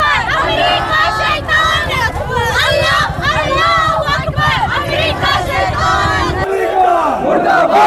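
A large protest crowd in Lucknow chants slogans against America in loud, rhythmic unison, voices massed and close, with shouted calls rising over the chorus throughout.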